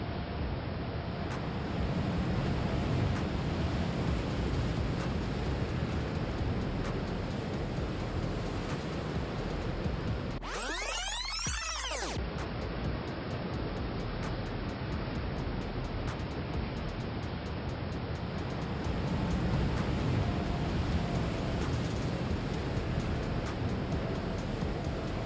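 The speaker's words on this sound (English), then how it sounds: "high winds blowing in from the North Atlantic Ocean generate waves like this, some of which can be over 100 feet tall" Huge North Atlantic waves crash and roar continuously under heavy wind, a dense, loud wash of surf with gusting microphone wind noise throughout.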